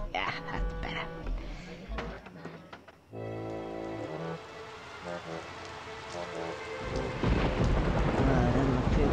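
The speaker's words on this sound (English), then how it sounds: "Got a rainstorm? Look at these rain graphics, boys." Thunderstorm with rain in a retro video game: rumbling thunder and a hiss of rain over chiptune-like tones, the downpour swelling louder toward the end.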